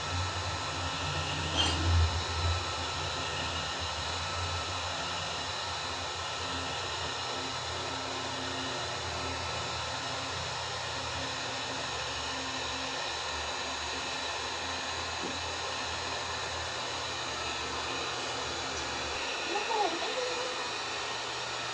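The blower of an iTeraCare therapy device runs steadily throughout, a continuous airy whoosh with an even hum, broken only by a couple of brief knocks.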